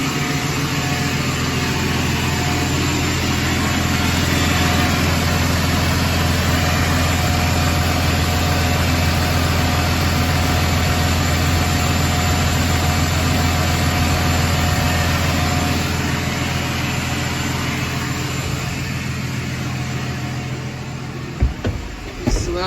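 A John Deere 6150M tractor on a chilly morning idles to warm up, a steady, loud, unbroken diesel drone with a faint whine, ending in a brief clunk.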